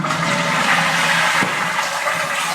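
A dual-button toilet flushing in a Roman apartment bathroom, a loud close rush of water draining steadily through the bowl for a few seconds.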